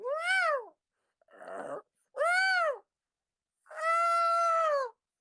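A person imitates a cat, giving several drawn-out, wavering meows with a rough, grunting sound between them, loud and close.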